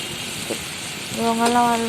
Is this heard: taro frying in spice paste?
yes